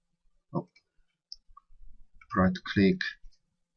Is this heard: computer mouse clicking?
yes